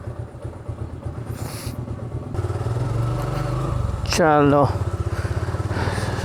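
A motorcycle engine runs close by with a pulsing putter that grows louder and steadier, while a voice speaks briefly over it.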